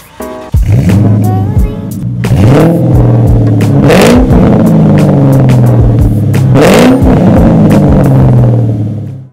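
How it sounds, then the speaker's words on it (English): A supercharged 2000 Ford Mustang Saleen 281 engine revs hard several times close up, each loud rising surge falling back to a rumbling idle between blips, with supercharger whine over the roar. "I have a 2000 Ford Mustang here. This is a Saleen 281 and it's supercharged."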